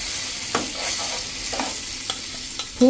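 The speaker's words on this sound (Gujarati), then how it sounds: "1 કપ જેવું આપણે દહીં નાખીને અને એને મિક્સ કરી લેશું" Yogurt is stirred into a chutney in a pan with the heat turned off, giving soft scraping and stirring sounds with a few faint knocks against the pan and a brief tonal clink at the end.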